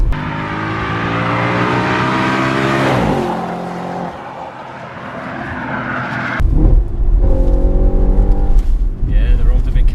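An Audi RS4 with a naturally aspirated engine accelerates hard through the gears, loud and close, its pitch rising with each pull, a brief dip between gear changes, then another surge of revs, with speech in the cabin.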